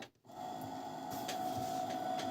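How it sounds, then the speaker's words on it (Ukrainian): Motor of a Brother ML750 sewing machine running during bobbin winding, a steady whirring hum starting after a brief pause, close and faint, with no talking. "Для того, щоб перевірити двигун, включаємо намотку шпульки."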